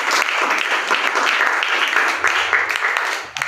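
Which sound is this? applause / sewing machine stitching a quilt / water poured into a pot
applause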